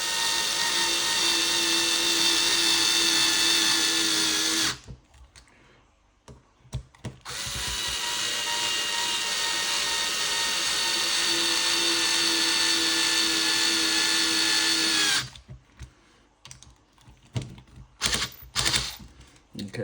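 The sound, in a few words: screwing screws into an RC DR10M car build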